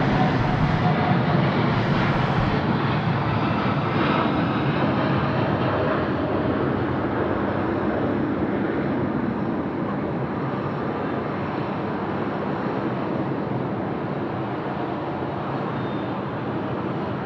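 Qantas airliner taking off at Sydney Airport: a broad, steady jet roar that slowly fades as it climbs away, heard from a distance outdoors with no talk.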